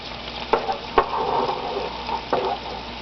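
Tofu taco egg rolls fry in a small pan with a soft, steady sizzle, broken by a few sharp clicks as they are turned.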